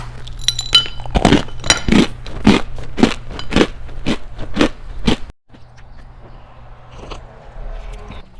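A hojicha almond cookie bitten and chewed up close, giving about nine sharp, crisp crunches in a steady rhythm before it drops to softer, quieter chewing.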